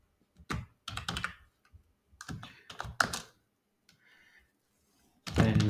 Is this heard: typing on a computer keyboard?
yes